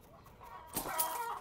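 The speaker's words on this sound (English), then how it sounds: "I swear I heard myself a chicken." A chicken clucking in the Australian survival game STRAYA, a brief faint burst of clucks after a moment of quiet, with no talking.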